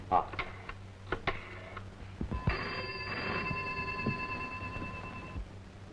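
A telephone rings in a domestic drama scene, with repeated ring bursts over about six seconds and faint background sound beneath.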